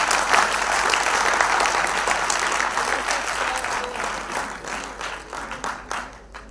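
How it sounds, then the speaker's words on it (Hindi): Lecture audience applauds an NSS student volunteer, a full, loud burst of many hands that holds steady, then thins into scattered separate claps as it dies away. "Good boy, clap for him."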